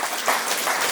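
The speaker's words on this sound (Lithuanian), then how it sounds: "Jūsų plojimai Pauliui." Audience applause for the performer Paulius at an evening musicians' concert in Viekšniai, a brief, steady wash of clapping.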